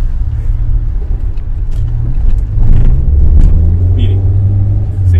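A car engine rumbles and revs while driving, a low, close drone that climbs in pitch as revs rise, under a voice talking throughout.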